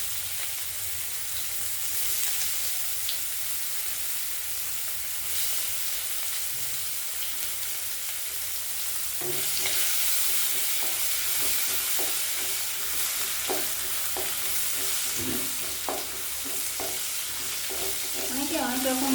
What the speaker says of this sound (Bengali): পেঁয়াজটা দিয়ে দিই।